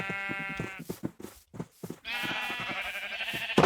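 Sheep in a blocky sandbox building game bleat loudly and close by, two long wavering calls separated by a brief burst of shorter choppy noises.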